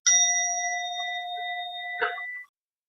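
A bell is struck once and rings with a clear, sustained metallic tone. A second light strike comes near the end before the sound cuts off abruptly.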